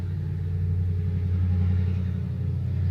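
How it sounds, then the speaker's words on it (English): A big, loud truck motoring past nearby, a steady heavy engine rumble with low droning tones that holds throughout without letting up. "If a big truck's going by"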